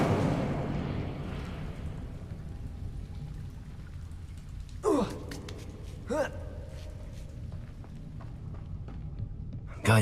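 A fire spell, Incendio, is cast in Hogwarts Legacy: two short whooshing bursts a little over a second apart, each with a falling tone, over a quiet, hissy background.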